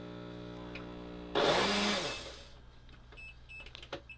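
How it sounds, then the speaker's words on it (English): A blender running on a Pecron 1200W portable power station starts with a loud whirring burst over a steady hum, then winds down after about a second as the power cuts from overload. "I'm going to go ahead and hit the blender over here"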